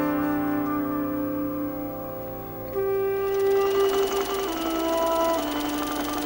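A sewing machine runs steadily in an indoor setting, a low mechanical hum with a sustained tone that steps up and grows louder partway through, with no talking.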